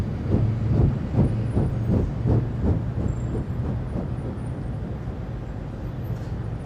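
An old train, of the kind replaced by diesel and electric units in the 1960s, rumbles along steadily with a rhythmic clatter of wheels over rail joints, fairly close and continuous throughout.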